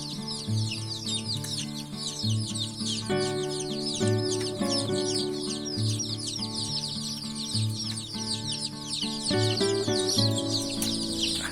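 Newly hatched layer chicks peck and peep in a brooder box, a dense chorus of high, rapid cheeps over a steady rhythmic mechanical ticking from nearby equipment.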